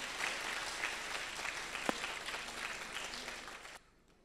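Audience applause at a spiritual honor ceremony, a broad, even patter of many hands with one sharper clap standing out, sustained for several seconds before cutting off abruptly.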